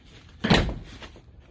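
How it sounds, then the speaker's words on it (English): A single door swings open or shut indoors with one solid thud and a brief rattle, fairly close, then quiet. "Don't worry about the door"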